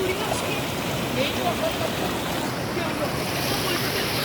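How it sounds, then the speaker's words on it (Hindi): Clear river water rushes past near a hidden dargah and waterfall in Rajasthan during the rainy season, a steady, close, broadband roar with some wind buffeting the microphone. "और देखो ये पानी यहाँ पे बह रहा है"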